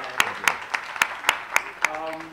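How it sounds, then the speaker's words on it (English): An audience at a magazine cover unveiling claps in a sparse, evenly spaced way, single sharp claps ringing out about three times a second, with talk underneath. "Let's have a big round of applause for that."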